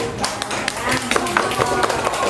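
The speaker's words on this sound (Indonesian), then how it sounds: "Dan tepuk tangan untuk Dian ya" A classroom of students claps for a classmate named Dian, with scattered, uneven hand claps over steady chatter and a teacher's voice.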